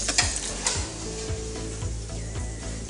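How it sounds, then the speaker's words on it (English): Crispy pork belly skin sizzles and crackles steadily, close and fairly loud, with a few scraping knocks mixed in and no talking. "You can hear that, how crispy that skin is there."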